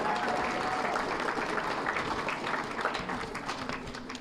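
An election night crowd gives a round of applause: a dense, continuous wash of clapping and cheering, fairly loud and steady, with voices mixed in.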